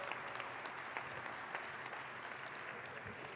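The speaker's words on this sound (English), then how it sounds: "Give yourselves a round of applause" Steady applause from a convention audience at a California Democratic political convention, a dense wash of many hands clapping, moderately distant and even throughout.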